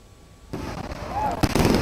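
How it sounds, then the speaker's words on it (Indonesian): A New Year's fireworks display goes off over Gedung Sate in Bandung. A sudden onset of crackling booms is followed by a sharper burst, with the noisy rumble continuing through the short stretch. "Atraksi kembang api yang menghiasi langit Bandung berlangsung dengan meriah dan juga memukau."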